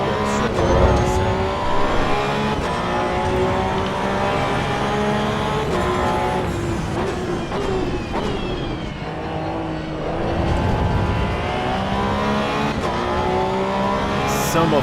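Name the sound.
Porsche 911 racing laps at Bathurst, Assetto Corsa EVO video game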